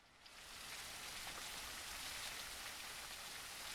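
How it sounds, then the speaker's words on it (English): Steady rain in the cozy video game Teddy's Haven, a dense, even hiss of falling drops that fades in over the first half second and then holds at a constant level, with no talk over it. "Okay, I hear rain."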